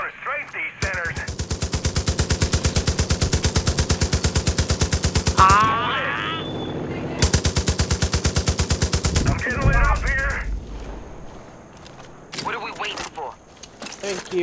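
Long, loud bursts of rapid machine gun fire from an aircraft strafing in the Far Cry 5 video game, two sustained volleys with a pause between and engine noise and game effects after.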